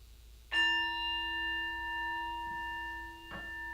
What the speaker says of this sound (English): At the sound of the first small bell, let us stand behind our chairs.